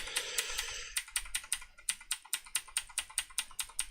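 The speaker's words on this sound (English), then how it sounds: "So you're going to hear me clicking." Repeated mouse clicks on a computer while stepping frame by frame through video footage, a steady series of sharp, close clicks about three per second after a brief burst of noise, with no talking.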